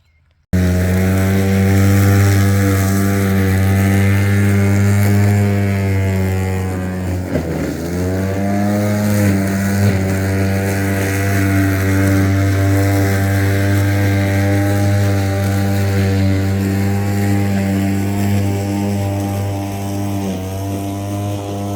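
A mower mulching a cover crop runs with a loud, steady engine hum and buzzing harmonics, dipping briefly under load partway through and then settling back to an even drone, with no talking.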